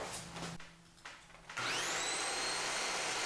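A Dyson DC25 upright vacuum cleaner is switched on partway through, rising from faint clunks into a loud steady whine with a high motor tone that climbs in pitch as it spins up.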